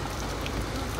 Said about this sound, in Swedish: det regnar så mycket ute